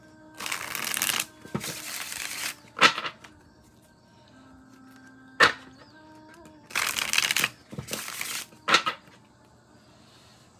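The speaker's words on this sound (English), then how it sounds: "Nice and easy, very light, very airy shuffles, very effortless." A Faery Wheel tarot deck shuffled lightly by hand in several quick riffling bursts separated by quiet pauses, crisp and close, with no talk over it.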